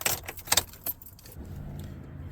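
Keys jangle close by, then a quiet low electrical hum settles in as a truck's ignition is switched on, key on with engine off, with no engine starting.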